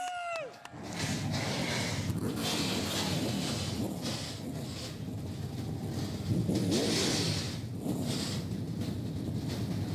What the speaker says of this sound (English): Ladies and gentlemen, start your engines!